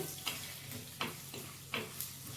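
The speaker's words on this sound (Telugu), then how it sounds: "కరివేపాకు ఆవాలు జీలకర్ర వేసేసాం కదా కొంచెం వేగితే బాగుంటుంది అందుకోసం పోపు పెట్టడానికి ఇలా వేయించుతూ ఉన్నాము" Curry leaves, mustard seeds and cumin fry in hot oil for a tempering, a faint, steady hiss broken by soft pops and crackles at regular intervals.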